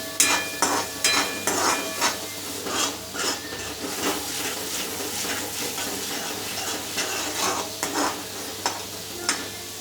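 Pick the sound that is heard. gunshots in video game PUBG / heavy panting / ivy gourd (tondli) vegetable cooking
ivy gourd (tondli) vegetable cooking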